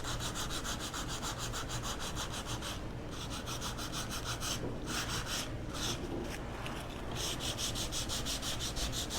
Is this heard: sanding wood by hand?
yes